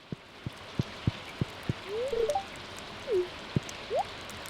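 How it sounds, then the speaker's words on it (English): Rain falls in Stardew Valley as a steady soft patter, with distinct plinking drips every half second or so and a few brief chirps rising over it. "Now it rains."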